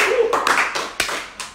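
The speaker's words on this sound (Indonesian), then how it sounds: "Tepuk tangan semua." A handful of sharp, close hand claps ring out in a quick, uneven rhythm, each one sounding separately at a gathering.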